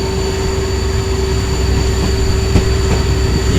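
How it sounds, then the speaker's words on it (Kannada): The SMVT Bengaluru–Murudeshwar Express enters a station loop at T. Senapura on the Konkan line, heard from a passing train. A loud, steady rail roar with a high ringing tone carries on without a break, with faint wheel clatter near the end. "ಆ ಕಡೆ ನೋಡಿ SMVT Bengaluru Murudeshwar express entry ಆಗ್ತಾ ಇದೆ."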